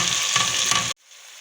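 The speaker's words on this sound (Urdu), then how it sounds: "ابھی ہم لوگ شملہ مرچ اور بند گوبھی ڈال دیتے ہیں۔" Capsicum and cabbage sizzle and fry loudly in a pan as a steady, close hiss, then the sound cuts off abruptly to near silence.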